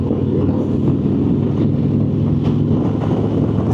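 Harley Davidson Ultra Limited motorcycle cruising at 70 mph around 2,500 RPM in sixth gear, a steady low engine drone mixed with continuous wind rush across the microphone.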